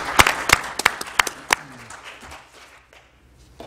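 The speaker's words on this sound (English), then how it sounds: "They need a round of applause for that." Sparse applause for a men's college golf team at a board of trustees meeting, a handful of separate claps close by in the first half that thin out and fade to near silence.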